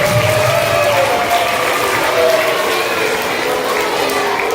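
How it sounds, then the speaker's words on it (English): A school audience at a Teachers Day event applauds a class 4 performance, loud continuous clapping with crowd noise and some voices mixed in throughout. "Let's give them another round of applause."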